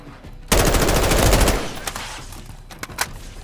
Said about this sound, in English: Watch the sentry turret.